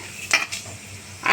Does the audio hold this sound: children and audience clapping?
no